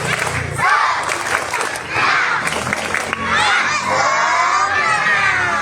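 A crowd of schoolchildren at an elementary school National Children's Day celebration shouts and cheers loudly and continuously, with energetic voices filling the space and no clear distinct clapping pattern.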